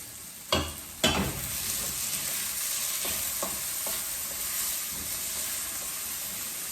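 Tomatoes dropped into a hot pan for a home-cooked lunch dish, two sharp splashing hits followed by a steady hiss of frying and occasional light stirring clatter, close up with no talk.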